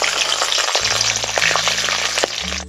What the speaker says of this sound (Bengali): এই তেলের মধ্যে দিয়ে চিনে বাদামগুলো ভেজে নেব।